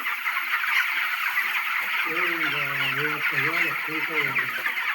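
A crowded flock of chicks indoors on a chicken farm clucks and chirps continuously, while a voice talks over the noise partway through.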